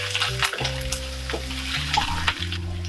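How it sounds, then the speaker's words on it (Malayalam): Mustard seeds and onions fry in hot sunflower oil, giving a steady close sizzle with crackles and scraping stirs, while a low hum and tonal music-like bands run underneath. "എണ്ണ ചൂടായിട്ട് കടുക് ഇട്ട് കൊടുക്കാം. അതിനുശേഷം സവാള, ഉള്ളി."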